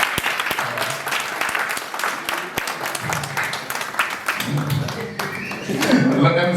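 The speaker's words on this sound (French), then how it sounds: "Elle mérite encore des applaudissements." Audience applause for a workshop presenter, steady clapping throughout with voices talking over it and the crowd noise swelling toward the end.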